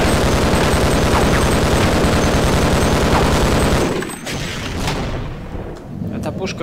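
Rapid, heavy automatic gunfire from a turret in Half-Life pounds continuously for several seconds, then cuts off, leaving scattered quieter game sounds.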